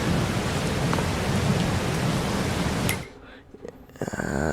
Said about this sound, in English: let's just kind of wait out the rain